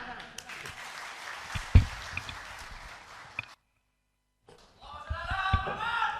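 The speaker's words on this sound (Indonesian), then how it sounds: "Tepuk tangan." Audience applause for a special guest at an evening Islamic gathering, with scattered claps and voices that cut to silence, then return with a louder, denser burst of clapping and crowd noise.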